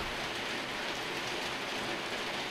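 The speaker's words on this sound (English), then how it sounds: "This rain is really bothering me." Steady rain falling, a dense, even hiss with no breaks or individual drops standing out, heard alone at moderate level.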